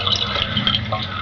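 Water runs steadily into the overflow tube of a leaky toilet tank whose float is set wrong, a continuous close trickling rush with no pauses and no voices.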